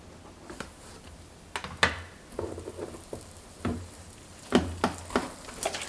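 Leavened layered flatbread dough set into a preheated pan brushed with a little oil, frying with a quiet sizzle broken by scattered crackles and soft pops, with no talk.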